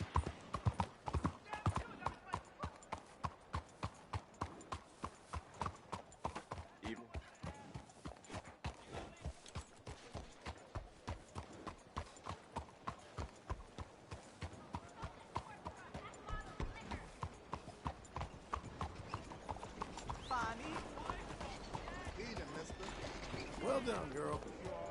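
Steady rhythmic clip-clop of horse hooves in a PS4 video game at a brisk pace, close and fairly loud, easing into a blur of movement noise near the end.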